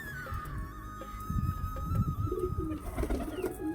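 Pigeons cooing in a backyard loft after rain, soft repeated low coos coming in overlapping bursts, close by, with a thin steady tone running in the background.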